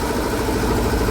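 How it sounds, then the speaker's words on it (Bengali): A small trawler's engine runs steadily as the boat moves along Dhangmari canal, a continuous close, loud throbbing drone with a regular low pulse that cuts off abruptly at the end. "ঢাংমারি খাল ধরে ছুটছে আমাদের ছোট্ট ট্রলার"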